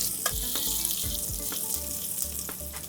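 Red onions, garlic cloves and carrot chunks sautéing in a pan for a soya and red bean stew, giving a constant loud sizzle broken by a rhythmic series of stirring scrapes and knocks.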